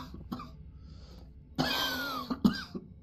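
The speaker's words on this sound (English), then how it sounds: "Don't cough in my face. Don't be rude." Coughing in the video game Lost Alone Ultimate: a few short throaty coughs and a throat-clear in quick succession, moderately close and fairly quiet, with no talking over them.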